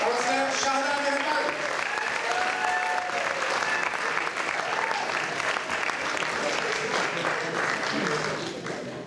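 Sustained, dense audience applause at a Pakistani Community Achievements Awards evening in Hounslow, greeting councillor Shahda Meharban as she comes to the stage; it holds steady for about nine seconds with a voice faintly audible beneath it.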